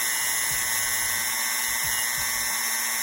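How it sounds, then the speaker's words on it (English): Steady high whine of a small rotary sanding tool grinding a plastic action figure ankle part flat, constant and fairly loud throughout, with a few low knocks underneath and no speech. "And we wanna sand it flat, so it fits nice and snug."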